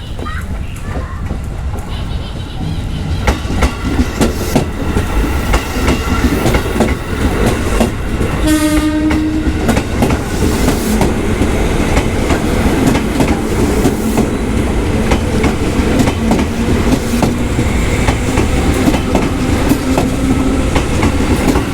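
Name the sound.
KRL commuter train passing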